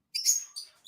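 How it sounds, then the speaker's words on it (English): Birds chirp in the background, a couple of short, high, bright tweets in quick succession, fairly clear against otherwise silent surroundings. "I got to tell you, Jason, the birds add a lot of livelihood to the audio"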